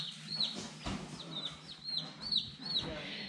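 Chicks in a brooder give repeated high, thin peeps in a steady string of short calls, fairly close, over a low background hum with faint sounds of movement.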